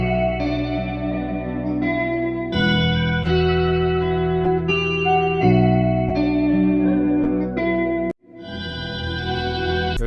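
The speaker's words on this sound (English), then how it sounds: "One of my favorite is Valhalla Room. This one is more of a spatial reverb thing." Sustained synth and instrument chords pass through the Valhalla Room spatial reverb plugin, with lush, wide washes of reverb and chorus-like shimmer that continue loudly throughout, broken only by a brief cutoff near the end.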